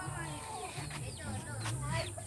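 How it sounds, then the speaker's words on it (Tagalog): A neighbour's chickens cluck in a yard, low throaty calls coming in a few short runs under someone speaking nearby. "ito mga manok dito sa bila, ito na sa kapitbahay ko yan"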